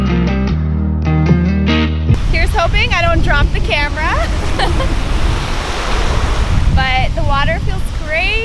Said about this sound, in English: And then the beach is right over here.